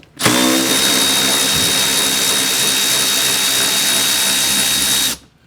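A Milwaukee cordless ratchet whirs at high speed, loosening seat bolts in a Honda Civic, one sustained burst of about five seconds that starts and stops abruptly, close and loud with no talk.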